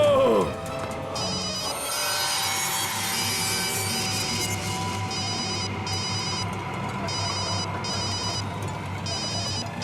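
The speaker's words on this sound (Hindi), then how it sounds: "रिया प्लीज फोन उठाओ" A telephone in a Hindi horror movie rings in short, regular bursts through the second half, set against a dense, loud backdrop of eerie score and ambience.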